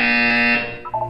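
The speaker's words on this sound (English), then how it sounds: "When you hear the buzzer, look down at the floor." Buzzer in the video game Portal 2, one loud sustained electronic tone sounding alone for about half a second, then fading into a low murmur.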